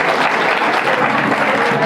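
A school audience applauds a student at an annual school function in Chamba, Himachal Pradesh. The clapping is dense and continuous and fills the whole moment at a loud, steady level.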